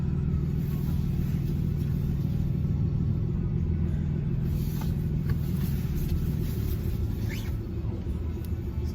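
A Cummins diesel pickup with a manual G56 transmission reverses slowly, its engine giving a steady low rumble close by with little change in pitch, alone without talk.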